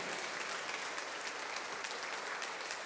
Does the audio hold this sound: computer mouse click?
no